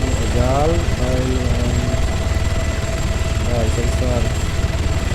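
A helicopter in the game Arma 3 Altis Life drones steadily with a constant rotor and engine hum, loud and close, while someone talks over it.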